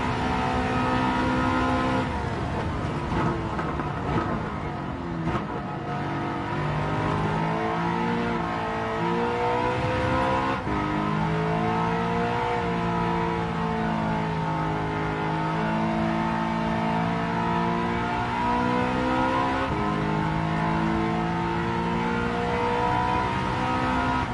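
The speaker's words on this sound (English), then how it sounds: "Can y'all hear the cars though? Like the cars sounds amazing." Racing car engines in Gran Turismo 7 rev and whine loudly, pitch rising and falling through gear shifts as the cars accelerate, with no voices.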